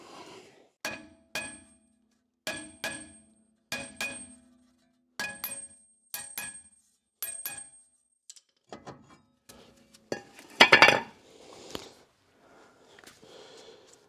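A hammer strikes the rear brake disc of a 2019 Hyundai Ioniq Electric 28 kWh, giving about a dozen sharp metallic clangs at a steady, unhurried pace, each ringing briefly, followed by quieter scraping and handling noises.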